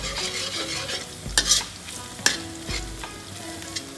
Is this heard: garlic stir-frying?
yes